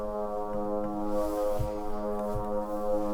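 Synth pad holding a single C3 in Ableton Live with no processing: a steady, sustained, droning tone with rich harmonics and a faint pulsing texture underneath, on its own without voices.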